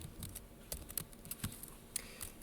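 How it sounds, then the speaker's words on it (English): Typing on a computer keyboard, quiet irregular clicks of keys pressed close by, with no voices. "let's type in some of that again"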